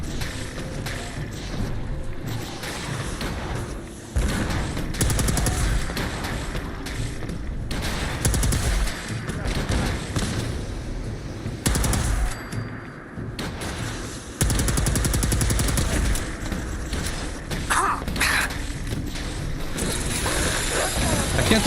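Sustained gunfire from a companion named Ada in Fallout 4, dense bursts of shots and loud impacts crowding together almost without pause, with someone talking over the din.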